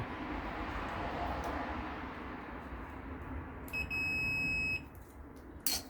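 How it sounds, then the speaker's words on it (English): A single steady electronic beep from an electric dryer part sounds for about a second over a low, continuous background hum, followed by a short click or knock. "But the new one does beep."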